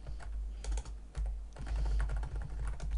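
Steady typing on a computer keyboard, with quick clicking keystrokes in uneven bursts up close over a low background hum, entering text into a database form.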